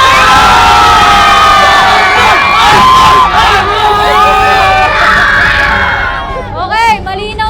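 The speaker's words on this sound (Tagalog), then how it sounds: "Sigawan muna para kay Team Argon!" A crowd shouts and cheers for a team at an ice challenge, loud overlapping children's yells and whoops, fading near the end into a few scattered voices.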